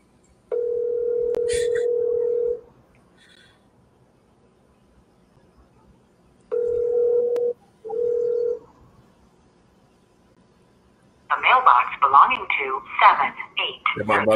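A telephone call rings out on speakerphone with two bursts of a steady electronic ringback tone separated by silence, followed by a voice talking over the line.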